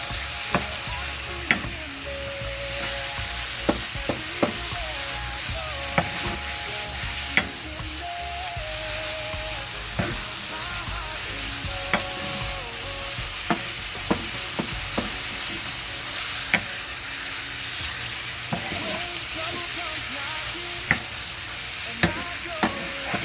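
Vegetables for a shepherd's pie sizzle and fry in a pan, a constant crackling hiss broken by frequent sharp clacks of stirring against the pan.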